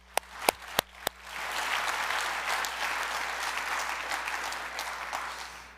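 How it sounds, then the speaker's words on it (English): A conference audience breaks into applause: a few sharp individual claps first, then a sustained, even round of clapping from many hands in a hall. "let's have a round of applause"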